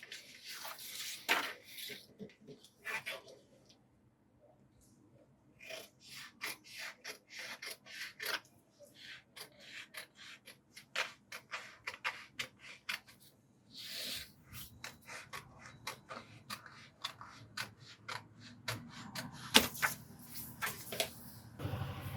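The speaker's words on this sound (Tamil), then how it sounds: "இதோட பேக் நெக்கையும் கட் பண்ணிடலாம்." Scissors cutting the back neck of a princess-cut blouse on a tailoring table, heard as soft, irregular snips and rubbing fabric rasps, close by and fairly quiet, with no talk.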